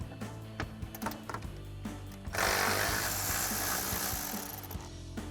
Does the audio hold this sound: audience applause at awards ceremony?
no